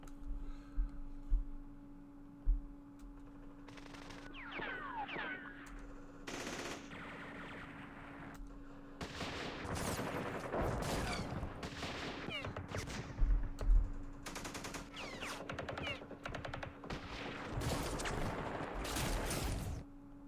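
Heavy-weapons machine-gun and rifle fire from the Vietnam wargame Campaign Series Vietnam, Dien Bien Phu battle, rattles in repeated bursts, sparse early then dense and sustained, with scattered booming impacts.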